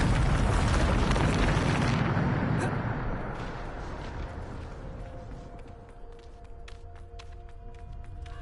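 Bombarda explosion spell in Hogwarts Legacy, a loud broad blast that rolls off over several seconds into a decaying rumble with scattered debris crackles and faint game tones.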